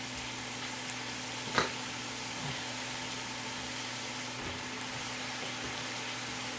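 Chopped vegetables with bite-sized eggplant sizzle steadily in a pan, a faint even frying hiss with one brief clatter near the start.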